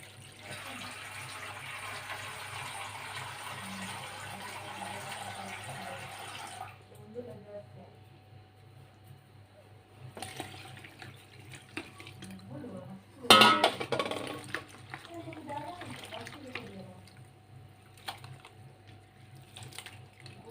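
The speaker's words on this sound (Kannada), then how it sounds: "ಅದನ್ನೀಗ ನೀರಲ್ಲಿ ತೊಳ್ಕೊಳ್ಬೇಕು ಚೆನ್ನಾಗಿ" Thin flattened rice (avalakki) is washed in water in a kitchen, with a soft running-water rush at first, then sloshing, clinks of a vessel and a sharp splash, while someone talks over it.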